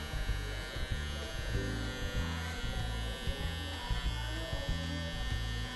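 An electric hair clipper buzzes steadily at close range while cutting straight hair around the neck, with a pulsing, rhythmic hum that rises and falls slightly as it moves.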